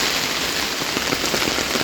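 Heavy rain pours down steadily in a dense, loud, continuous hiss of drops striking surfaces nearby, with no voices.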